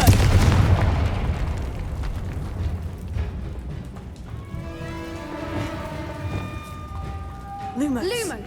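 A Confringo blasting spell in Hogwarts Legacy bursts with a heavy boom at the start, then its rumble fades under a shouted incantation and ongoing spoken words, with tonal magical whooshes and sweeping chimes toward the end.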